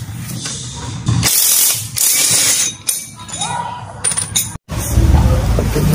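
Repeated clicking of a ratchet wrench loosening a shock absorber spring on a vehicle suspension, bursts of close, loud mechanical ratcheting with brief pauses and metallic clinks between.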